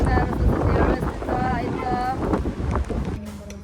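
Wind buffets the microphone on a roadside during a trip from Itahari to Basantapur, a steady loud rumble throughout with a voice talking over it.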